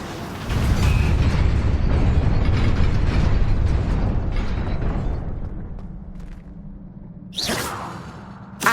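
A roaring blast of fire from the Incendio spell in Hogwarts Legacy, a loud whooshing burst of flame that slowly fades, followed by a sharp crackling flare near the end.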